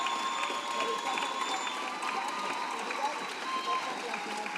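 Concert audience applauding a jazz trio of piano, drums and acoustic bass at a faculty concert, steady dense clapping with some cheering, moderately distant and continuous.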